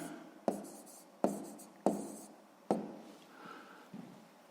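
Pen or chalk writing out a sixth-grade math solution: four sharp taps and strokes spaced under a second apart, then softer scratching, close and quiet.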